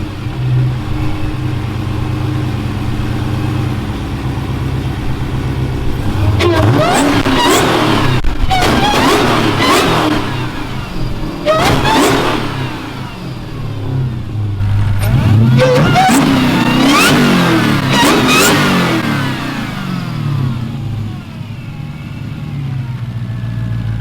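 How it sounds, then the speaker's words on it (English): A 1,000-hp, 6-speed-swapped Hellcat Charger drift car with a 275 upper pulley and an aftermarket intake revs loudly in several bursts from idle. Supercharger whine rises and falls with each rev, heard close with no talking. "as you guys can hear, with the 275 upper pulley, the leg maker intake, she's got some pretty good whine"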